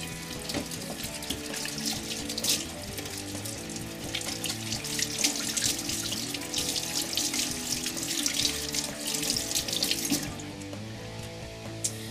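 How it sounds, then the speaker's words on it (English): Water runs steadily from a tap for several seconds, splashing and gurgling into a sink as hands are rinsed, with no voices. "Now then I have to wash my hands again."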